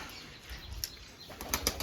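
Brief bursts of pigeon wings flapping close by, a few quick flutters over a quiet background.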